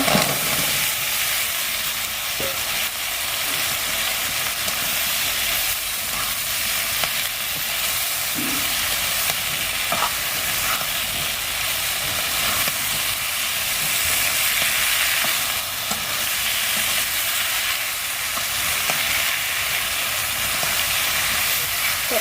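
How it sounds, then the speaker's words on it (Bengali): Fish and spice paste frying hard in a pan for a taro leaf curry, giving a steady, continuous sizzle with faint stirring scrapes throughout, close by, with no talking. "এই যে মাছটা কিন্তু অনেক কড়া করে ভেজে ফেলছি এই যে মশলাটাও কষায় ফেলছে"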